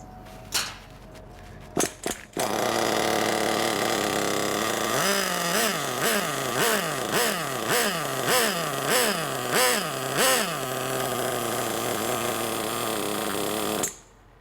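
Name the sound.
nitro RC buggy engine running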